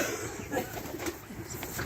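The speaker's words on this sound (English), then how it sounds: "We got our pigeons that are going with." Baby pigeons in a cage coo softly and repeatedly, close by, with a steady rustling background and occasional low throaty calls throughout.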